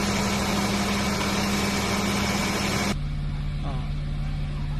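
A BMW E36 325i idles with a steady low hum while its front electric cooling fan kicks in, the fan's broad rushing whir loud at first and then dropping away sharply partway through, leaving the engine's idle drone.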